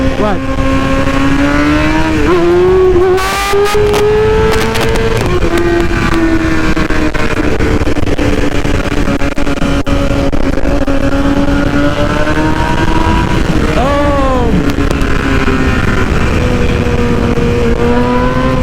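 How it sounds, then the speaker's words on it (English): A 2020 BMW motorcycle engine revs hard during a wheelie, loud and close, its pitch rising and falling through several throttle surges, with wind rush and the rider's voice now and then. "Is it wheelie time? I think it is. It's wheelie time."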